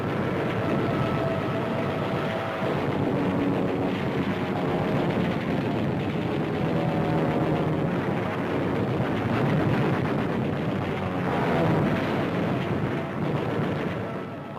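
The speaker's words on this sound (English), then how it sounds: "Out of the sky they roar with wing cannon blazing, tearing into ships of every description." World War II Navy Hellcat fighters roar in over enemy ships during Operation Hailstone with wing cannons blazing, heard as a loud, continuous rumbling roar with dense rattling bursts and no pause.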